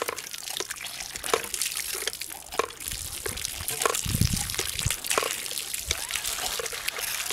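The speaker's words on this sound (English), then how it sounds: "You can see the output valve opening and shutting. Actually giving us a pretty good stream of water coming out of there." A 3D-printed water ram pump pushes out a stream of water that splashes and trickles steadily, with the output valve clicking open and shut in irregular knocks nearby.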